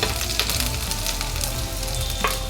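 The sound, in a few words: vegetables frying in pan for fried rice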